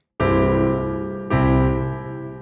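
Two deep piano chords struck one after the other without the sustain pedal, full and resonant, each ringing and slowly fading, with nothing else audible.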